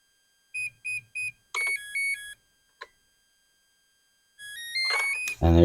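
A SeaKing 40 amp electronic speed controller gives three short beeps, then a brief two-tone chirp, a lone blip, and a rising musical tone sequence before a motor starts up.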